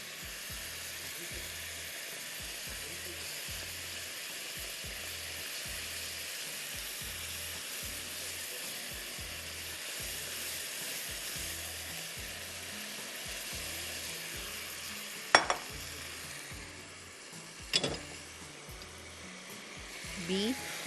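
Beef and vegetables sizzle and fry in a hot pan as a steady, even hiss that fills the whole stretch, close and moderately loud, with a couple of sharp clatters near the end.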